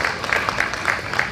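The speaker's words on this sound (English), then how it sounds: "Y'all give him a round of applause." Light applause from a small crowd at a bass fishing tournament weigh-in, a brief patch of sparse clapping with a few sharper claps standing out.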